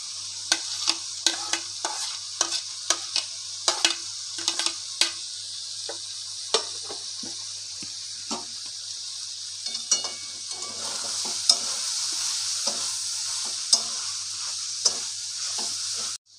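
Fried potato, capsicum and carrot are stirred into chicken in a sizzling pan, with a rapid run of spatula scrapes and taps over continuous frying hiss, the stirring easing off toward the end.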